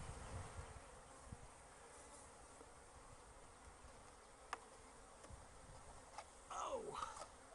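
Honey bees swarm around a feeder jug outdoors, a faint continuous insect hum with a few louder passes buzzing close by toward the end, and no one talking.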